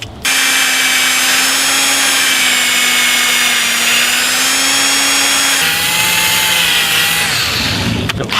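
Power drill cutting a countersink into an office chair armrest, a loud steady whirring motor tone close up that drops in pitch near the end before stopping.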